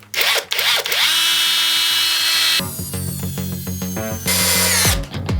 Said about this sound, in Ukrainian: давайте зараз спробуємо на максималках, що він зможе, і попробуємо, чи він зажене 150-й турбошуруп